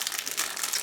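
A small plastic bag crinkles steadily up close while parts are unpacked from a Takom 1/35 AMX-13 tank model kit.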